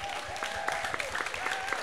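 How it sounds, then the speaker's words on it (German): Audience applause at the finale of the CSD Munich 2016 pride event, a steady spread of clapping with a sustained tone running underneath, moderately loud and continuous throughout. "Auch für euch einen Applaus bitte."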